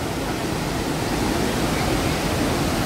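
Dassam waterfall near Ranchi in full spate, a dense steady roar of rushing water filling the air without break, moderately loud and broadband.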